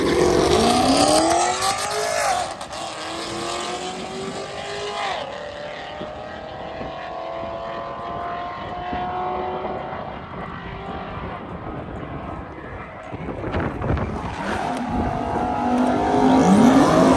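Chevrolet SS engine at Capitol Raceway, loud and close, with rising and falling revs and passing engine sweeps over a busy track background, building again louder toward the end.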